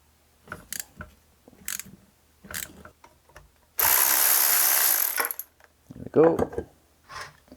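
A ratchet loosens a small 8 mm bolt on the brake pad cover of a Honda CB250RS motorcycle, giving short clicking bursts with pauses between them and a louder, longer rasping stretch midway.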